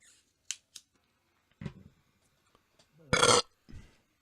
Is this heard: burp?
yes